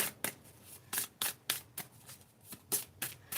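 A new Healthy Witch Oracle card deck being shuffled by hand, a quick series of about ten crisp riffling bursts in an uneven rhythm, close and fairly quiet, with no talk.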